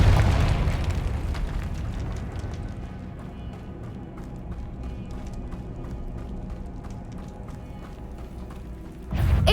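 Confringo spell blast in Hogwarts Legacy, a heavy booming explosion at the start that decays into a long rumbling tail with rattling debris, then another loud burst near the end.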